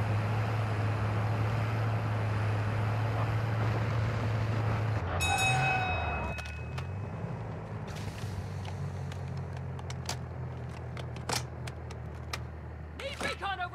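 A train rumbles through a Call of Duty DMZ match, a loud low drone that gives way to a shrill horn-like squeal and then clanking, rattling passes, with bursts of gunfire and game effects over it.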